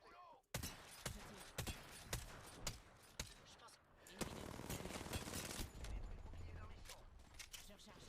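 Automatic gunfire in a video game shooter: sharp bursts of rapid shots ring out repeatedly, with a longer sustained volley, while players talk over it.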